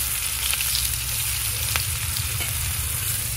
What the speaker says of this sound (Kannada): ಅದನ್ನು ಸಹ ಇದೇ ಎಣ್ಣೆಗೆ ಹಾಕ್ಕೊಂಡು ನಾವು ಫ್ರೈ ಮಾಡ್ಕೊಳ್ತಾ ಇದ್ದೀವಿ.